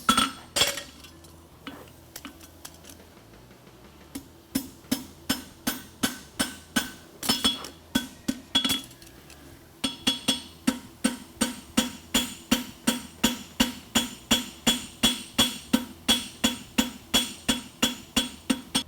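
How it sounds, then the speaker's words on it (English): Metal rings out as a hammer repeatedly strikes a bob punch on a horseshoe, a long series of sharp, evenly spaced clanging blows, close up, speeding into a steady rhythm. "The reason I use the bob punch is you can hit it hard and accurately"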